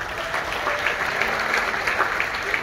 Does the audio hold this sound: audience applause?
yes